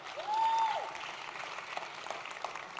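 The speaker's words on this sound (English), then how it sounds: "can we give all our finalists a big hand of applause" Audience applause for student finalists at a Future Problem Solving international conference, Junior Division scenario performance: a steady wash of clapping that swells early and then settles, with a brief whistle-like tone near the start.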